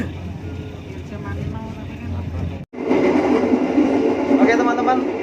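The Logawa economy-class passenger train rolls along on its Kutoarjo to Surabaya run, a steady low rumble and rattle heard from inside the carriage, broken by a brief sharp drop before louder running noise returns, with a voice talking over it.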